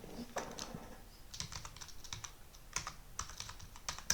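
An SQL query being typed on a computer keyboard, with scattered key clicks in quick irregular runs, fairly quiet and close, with no speech.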